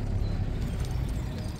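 Donkey hooves clip-clop on a town street while the animals pull a carriage, a steady close clatter of quick hoof strikes over low rumbling, with no talk.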